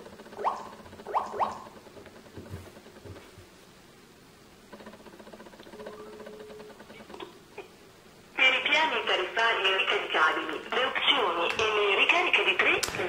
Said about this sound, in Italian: Proviamo adesso a fare una chiamata al servizio clienti per farvi sentire come funziona al viva voce